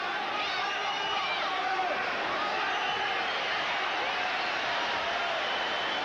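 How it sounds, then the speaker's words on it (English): Dense, steady crowd roar from a world-class boxing match, a sustained wash of voices reacting to Jorge Paez's slapping punches, loud and continuous throughout without a clear break. "Crowd reacting against the slapping attempts of Jorge Paez."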